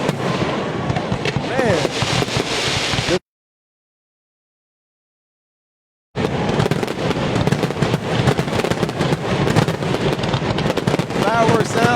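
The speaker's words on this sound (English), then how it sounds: "Fireworks sound like a marching band" Fireworks burst over Allendale at a Soul Bowl football event, a dense, continuous crackle and boom that drops out into silence for a few seconds and then resumes just as loud, with someone talking over the din.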